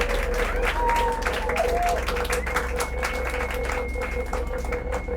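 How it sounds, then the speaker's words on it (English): An audience applauds at a lifetime achievement award ceremony, with steady, dense clapping filling the room at moderate volume for several seconds. "Could we have a round of applause"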